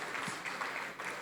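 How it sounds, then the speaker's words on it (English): An audience applauds panelists at a leadership dialogue in Abuja, with a short burst of steady, dense clapping filling the room. "Please, let's give them a round of applause again."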